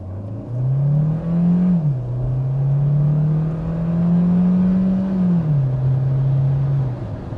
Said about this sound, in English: there is 60 miles per hour in the 2023 Kia Sportage Hybrid